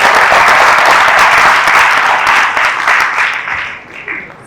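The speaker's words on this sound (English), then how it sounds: "I want a big round of applause" Big round of applause from an evening audience at a chamber of commerce youth forum, loud and dense clapping that holds steady and then gradually thins and tapers off toward the end.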